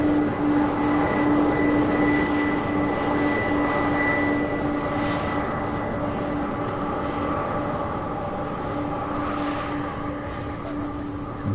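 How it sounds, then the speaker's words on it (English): A McDonnell Douglas MD-11 arriving at Louisville International Airport, a steady loud jet roar with a sustained engine whine that holds through the whole stretch, with no talk over it. "This is a very rare MD-11 arrival in the middle of the later part of the afternoon."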